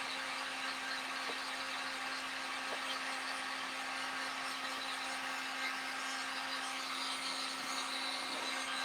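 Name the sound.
heat gun blowing on craft heart filler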